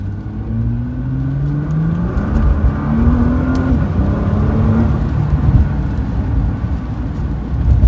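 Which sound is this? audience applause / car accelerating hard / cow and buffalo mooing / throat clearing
car accelerating hard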